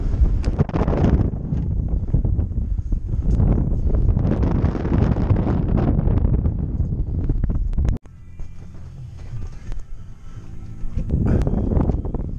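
Strong wind roars and buffets the microphone in heavy gusts, briefly easing before rushing back loud and close.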